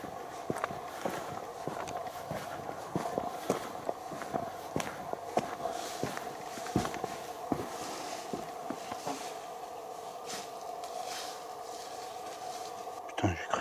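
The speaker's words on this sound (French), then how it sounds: "j'ai cru entendre des bruits de pas dans les feuillages" Footsteps crunch and rustle through foliage outdoors at night, a run of faint irregular steps spread across the whole stretch over a low steady hum and light wind.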